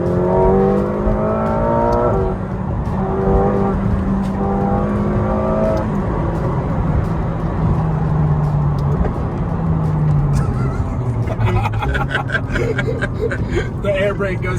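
A McLaren on a test drive accelerates, its engine droning loudly and shifting pitch through the gears from inside the cabin. People talk over the engine throughout.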